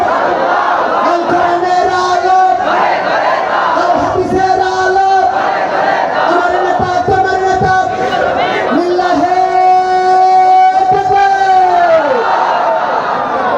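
Large political rally crowd roaring a loud, sustained chant in answer to a takbir call, many voices shouting together in rising, rhythmic bursts across the whole stretch.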